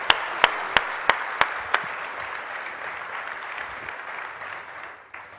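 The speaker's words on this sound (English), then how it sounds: "A round of applause for our Q&A." An audience applauds a Q&A panel at a connectivity event in Bucharest. A few sharp, evenly spaced claps lead into a steady wash of clapping that fades toward the end.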